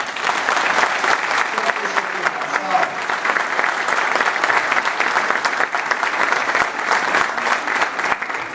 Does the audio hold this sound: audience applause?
yes